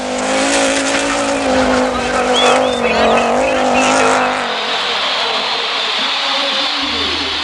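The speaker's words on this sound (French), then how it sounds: "Stoll amène son Audi 90 Quattro à l'arrivée" An Audi 90 Quattro rally car reaches the finish at the 1988 Rally of Argentina, its loud, close engine drone mixed with squealing tires, the roar easing toward the end.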